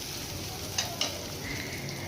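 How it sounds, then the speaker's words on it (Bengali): Onion paste fries on high flame in oil, a constant dense sizzle with two small spatter pops partway through, steady and close without speech. "মোটামুটি মিনিট 2 সময় ধরে হাই ফ্লেমে পেঁয়াজটাকে বেশ ভালো করে ভেজে নিতে হবে"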